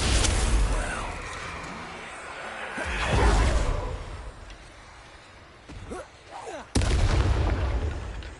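Confringo blasting spells crack out in a Hogwarts video game as sharp, booming bursts, several loud hits with whooshing tails amid clutter, while a voice speaks between them.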